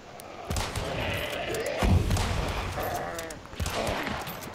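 Gunfire in the video game Hunt: Showdown, a few distant-sounding shots and thumps amid game ambience, fairly faint.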